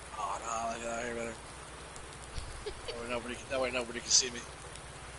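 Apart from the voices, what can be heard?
rain falling in the video game Lone Oak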